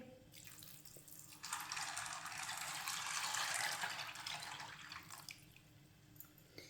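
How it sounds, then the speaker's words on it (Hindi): A steady stream of water runs for several seconds, filling a pot of cleaned white chickpeas with a full rushing sound, then stops, in otherwise quiet surroundings. "अब इसमें पानी डाल लेंगे।"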